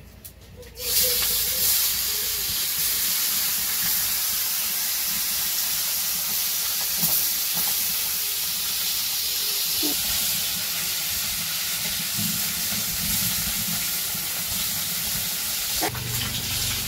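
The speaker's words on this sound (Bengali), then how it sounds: "তো মাছ ভাজবো, কড়াই তেল দিয়ে দিল।" Fish frying in hot oil in a wok (kadai): a loud, continuous hiss of sizzling that starts abruptly near the beginning and holds steady, with a few faint clinks and no voices.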